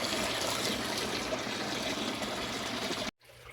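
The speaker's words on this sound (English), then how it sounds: "I've added a little bit of water to the tank, a very small amount of fertilizer." Water pours steadily into a greenhouse tank, a dense continuous splashing rush that holds evenly for about three seconds before cutting off abruptly into near silence.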